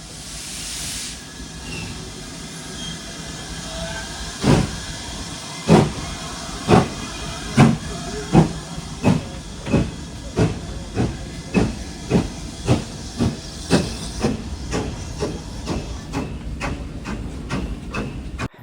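A steam locomotive on the North Norfolk Railway at a steam gala hisses steadily and then starts chuffing in sharp, evenly spaced exhaust beats that speed up gradually as the train gets going.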